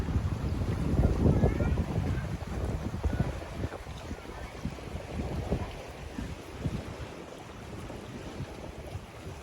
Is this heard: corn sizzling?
no